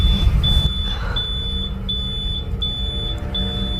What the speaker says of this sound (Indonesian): Nggak lama kemudian bunyi alarm panggangan yang sudah matang.